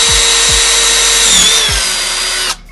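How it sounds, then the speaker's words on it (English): Power drill at high speed boring into a hollow aluminum motor with cutting fluid, a loud steady whine with a few low thumps, then cutting off abruptly near the end. "High, uh, highest speed as your drill will do."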